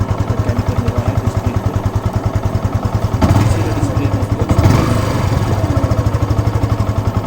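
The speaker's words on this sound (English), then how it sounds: "So that's how it sounds at idle." Close, steady idle of a 2019 Yamaha FZ FI V3.0 motorcycle with an even, throaty single-cylinder pulse, while a few light clatters and brief rustles sound in the middle.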